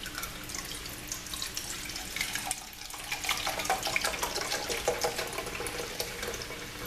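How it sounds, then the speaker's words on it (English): Broth pouring steadily into a pan with a continuous splashing, trickling sound, close by, with no voices. "Okay, so I'm going to pour some broth in here,"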